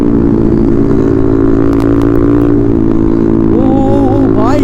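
A Yamaha R15 V3 motorcycle roars loud and close in a steady engine drone, with a rising, wavering whine toward the end.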